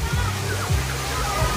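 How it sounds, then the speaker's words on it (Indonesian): An artificial waterfall splashes into a pond at the Dawuhan tourist site in Wanayasa, Banjarnegara. The water rushes and sloshes steadily and fairly loudly, with a voice faintly present over it. "Ini ada kolam, ada ini apa? Air terjun buatan."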